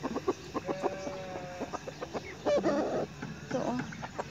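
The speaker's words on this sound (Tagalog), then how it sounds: "Lalaki ng manok." Several chickens cluck and squawk in short, irregular bursts close by in Ras Al Khaimah, with a brief rising call among them and no talking.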